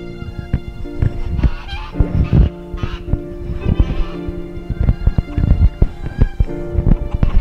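Small flock of poultry on a small island farm, including Banty bantam hens and roosters and an Appenzeller Spitzenhauben, making busy, overlapping calls and honks close by, with scattered clucks and squawks over low background noise.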